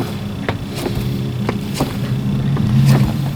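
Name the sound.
spinning a car wheel by hand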